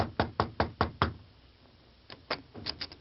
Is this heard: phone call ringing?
no